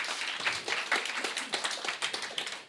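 Audience applause at the opening of a coloproctology conference day in France: a steady, dense patter of many hands clapping, moderately loud and continuous throughout, with no talking over it.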